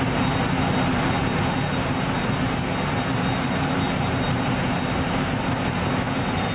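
Military aircraft flying over a NATO naval exercise in the Black Sea off the port of Constanța: a loud, steady engine roar that holds without a break for several seconds, with no talking.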